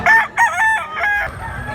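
A white-legged bull stag rooster of Kilso bloodline crows loudly and close in a series of bright, strained calls, the final note trailing off into a lower rasp, with no talk over it.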